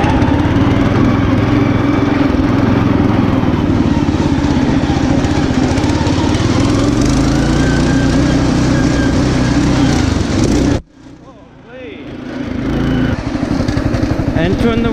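A riding lawn mower's engine runs loud and steady while driven, a throaty drone that cuts out abruptly near the end, then revs back up.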